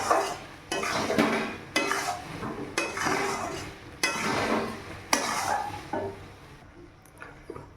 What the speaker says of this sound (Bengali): যে ভাজা মশলাটা অর্ধেক দিয়েছি, দিয়ে নাড়াচাড়া করে নিচ্ছি